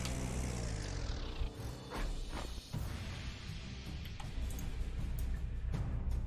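A fighter plane engine from the World War II strategy game Panzer Corps 2 drones as a steady, loud roar throughout, with brief swooshing surges and no voices.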